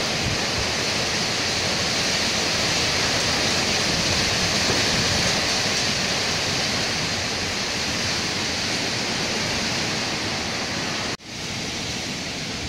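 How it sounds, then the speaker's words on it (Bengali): Cyclone Amphan's wind and rain roar as a steady, loud, dense rush that holds nearly unbroken for over ten seconds, then briefly dips with a sharp click before resuming; no one speaks. "আস্তে আস্তে ঝড়টা বাড়ছে"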